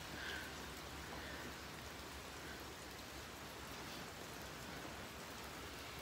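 Morning rain falls steadily outdoors, a continuous soft hiss of drops on surfaces that stays even and unbroken throughout, with no voices.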